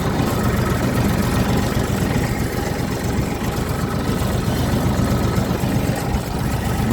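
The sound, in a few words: tractor engine idling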